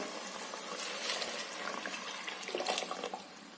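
Curry broth pours and splashes into a pan with a soft, continuous gurgling wash, fairly quiet and close.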